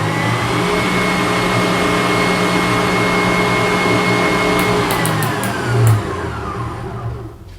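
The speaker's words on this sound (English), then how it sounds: "when you guys turn the high speed level on here, which is level 6, if you guys notice on the table, it definitely moves a lot" A Cheflee 6-quart household stand mixer runs at its top speed, level 6, with a loud, continuous whirring drone that stays steady for several seconds before easing off near the end.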